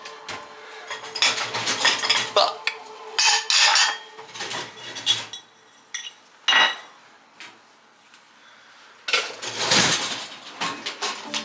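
Dishes and cutlery clatter and clink in bursts as they are put away in a kitchen, close and loud, with pauses between handfuls and a brief muttered word.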